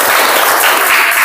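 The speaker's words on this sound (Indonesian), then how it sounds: "Tepuk tangan kelompok" Dense classroom applause for a student group, loud and close, a steady wash of many hands clapping with no pauses.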